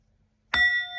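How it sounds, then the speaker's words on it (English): A single struck bell rings out after a moment of silence, a sharp metallic hit followed by a clear sustained ringing tone that holds steady. "This is a bell."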